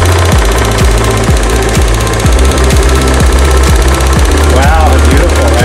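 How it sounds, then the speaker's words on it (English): A Singer 401A sewing machine fitted with a free motion embroidery foot runs at full speed doing stippling with metallic thread, a loud, steady rapid mechanical chatter with regular knocking pulses close by. "And I'm sewing fast. This is full speed for this machine."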